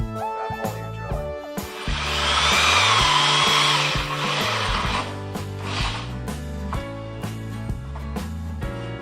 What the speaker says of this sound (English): now I'm going to drill through the liner